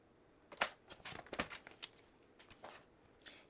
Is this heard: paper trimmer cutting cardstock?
yes